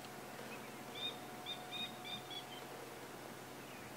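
Faint, high calls of a coqui francolin ring out in a short series of repeated notes, distant and quiet against a steady hiss of background noise, in the Sabi Sand reserve at sunset.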